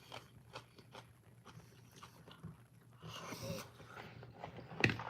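Soft, close crunching and biting of food during a casual lunch break, faint and irregular, with a few louder chews toward the end.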